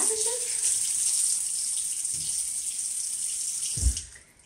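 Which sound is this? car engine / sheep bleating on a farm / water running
water running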